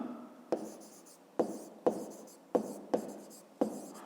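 Pen or pencil writing out a fifth-grade math solution on paper, a quiet continuous scratching broken by six sharp taps as each line or figure is started, close up and alone.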